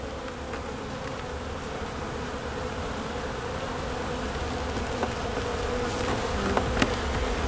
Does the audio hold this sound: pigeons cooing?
no